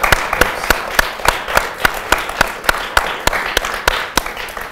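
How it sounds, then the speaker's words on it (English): Sharp, close handclaps ring out in a steady, evenly spaced rhythm, crisp individual slaps rather than a dense roar, lasting a few seconds. "Let's give them a round of applause for a great conversation."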